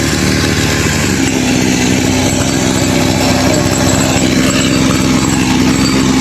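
Several engine-driven farm sprayer pumps run together outdoors, a loud, steady small-engine drone with a sustained hum that holds without break throughout.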